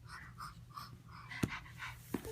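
A dog panting, quick soft breaths close to the mic, with a couple of sharp clicks in the background.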